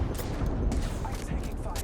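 Gunfire rattles in a battle royale video game, with dense overlapping shots and bursts over roughly two seconds. The firing is loud and continuous, and a voice is partly mixed into the noise.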